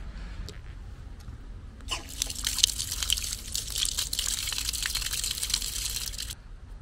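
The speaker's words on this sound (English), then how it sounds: "Little water fountain over there." Water trickles and splashes steadily for a few seconds from a small fountain outside Žiča Monastery in Kraljevo, Serbia, starting and stopping abruptly, with a low background hum.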